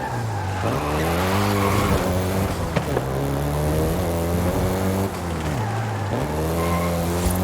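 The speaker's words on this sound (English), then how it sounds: "the Golf GTI you're driving right now" A Volkswagen Golf GTI racing in Forza Horizon 5 in Mexico, its engine droning loud and steady while revs climb and drop through gear changes, with a brief tire skid partway through.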